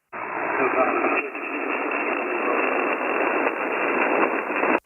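Steady, loud HF ham radio static hiss on the 40-meter band fills the whole stretch from an Icom transceiver, with a slight shift in texture partway through and no voice over it.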